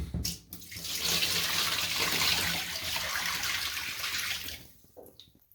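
A steady rush of muddy water and aquarium sand being poured out, a continuous splashing flow lasting several seconds before trailing off with a few drips.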